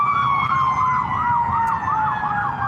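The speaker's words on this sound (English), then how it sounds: "with the sirens and stuff like that" An emergency vehicle's wailing siren sounds nearby, a loud rising and falling tone that sweeps continuously over road traffic noise.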